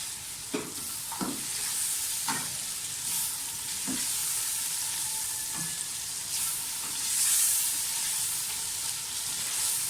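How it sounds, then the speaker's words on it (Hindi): Spices and yogurt frying in a pan for vegetable biryani, a loud bright hissing sizzle throughout with several distinct scrapes of a spoon stirring in the first half. "पहले मसालों को भून लें। दही डाल दें।"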